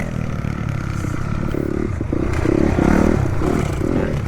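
An enduro motorcycle lifts into a wheelie at a practice event, its engine revving loud and rough with rising throttle bursts, chain and gravel clatter underneath.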